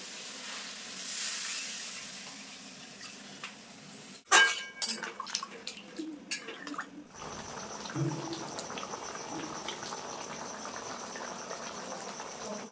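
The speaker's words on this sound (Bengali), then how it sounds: "এখন আমি ঝোলের জন্য পরিমাণ মতো জল দিয়ে দেবো।" Water is poured into a spiced potato masala for a Kashmiri aloo dum gravy, giving a sudden burst of splashing and bubbling after a quiet sizzle, then settling into a steady close simmer and hiss.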